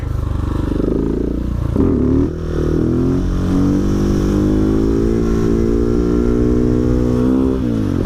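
A Husqvarna 701 Supermoto single-cylinder motorcycle heard close while riding on the road: a loud engine that revs up through the gears with a brief dip at a shift, then holds a steady rising drone over wind noise.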